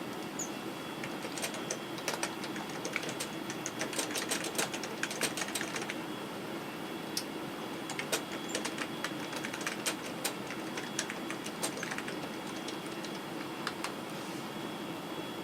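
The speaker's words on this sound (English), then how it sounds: "I might as well type something in here like I did a while ago." Keys clack steadily on a Dell Dimension 2350 computer keyboard, a close run of quick irregular taps and clicks over a faint steady hum, with no talking.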